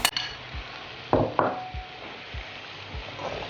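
Boiled potato pieces tipped into a pot for a Sinhala potato tempered dish, giving a couple of soft thuds and clatters against the pan, followed by scattered light knocks and scrapes over a quiet background hiss.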